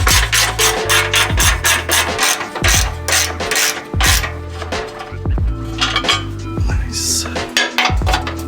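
A hand ratchet loosening the front skid plate bolts on a Toyota Tacoma, making fast, loud, close metallic clicking in repeated rhythmic runs with brief pauses between strokes, with no talking.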